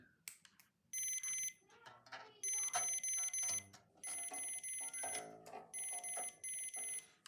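A multimeter on continuity mode beeps while probing the bridge wire of a Fazley Mammoth 7-string bass during an active-to-passive wiring conversion: four loud, sustained electronic tones, close by, with faint handling noise and low talk between them.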